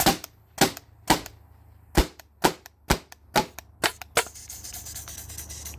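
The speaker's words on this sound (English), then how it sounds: "So I'm just gonna shoot it." Tippmann TiPX paintball pistol fired on leftover air in a remote line, about a dozen sharp pops in quick irregular succession, loud and close with no talk.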